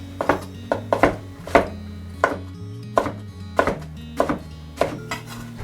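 A kitchen knife minces food on a cutting board while khachapuri cheese bread is being made. About a dozen sharp, close chops fall in an uneven, hurried rhythm over a faint steady background tone.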